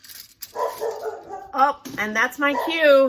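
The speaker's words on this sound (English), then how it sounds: "Sorry for the barking puppy." A puppy yaps and whimpers in short high bursts while someone talks over it nearby.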